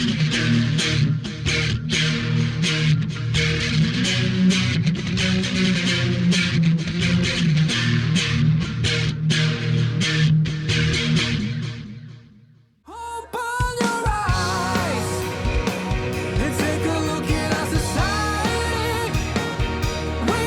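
Guitar playing through a compressor, B7K overdrive, Mobius chorus and H9 analog vintage delay: a dense, sustained, chorused and overdriven phrase that drops almost to silence briefly, then returns with bright, wavering lead notes, with no talking.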